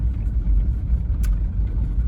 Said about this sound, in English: Driving a car with a cracked piston.